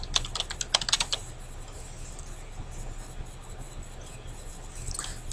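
A name typed on a computer keyboard, a quick cluster of crisp key clicks for about a second, then near silence with faint room hum.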